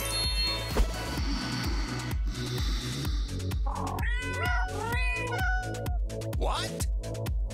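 Cat meowing, several drawn-out meows in a row over a steady, loud pulsing music beat.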